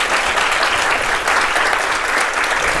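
An audience applauding at a tech talk on gender diversity in open-source projects, a steady, dense wash of clapping from many hands, loud and continuous without any break.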